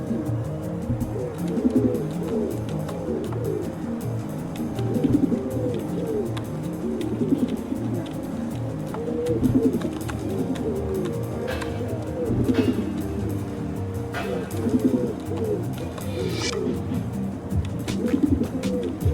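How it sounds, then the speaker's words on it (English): Pigeons coo repeatedly in a steady, rhythmic pattern close by a green bin, their soft throaty calls rising and falling in regular phrases with faint background sounds. "These pigeons, another failed experiment from the factory, turned loose like the rest"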